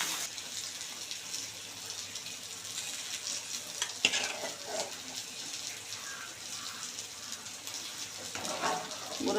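Sankara fish curry with drumstick bubbles in a pot on the stove, a steady dense hiss and simmering crackle that stays even throughout, close and without speech.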